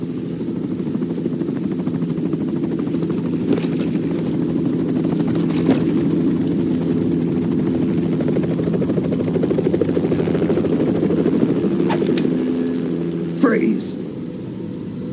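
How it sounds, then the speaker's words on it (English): Loud, steady helicopter engine drone with rotor thrum throughout in the video game Metal Gear Solid 2 Substance, a brief sharp noise near the end. "You will be on the helicopter out of here now."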